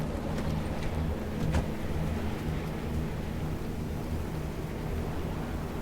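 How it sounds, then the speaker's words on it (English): Wind and rain in the video game Pacific Drive: a steady, dense rush of gusting wind and falling rain holds at an even level throughout, with low rumbling underneath and no voices. "Especially when, you know, the wind and the rain have kicked in."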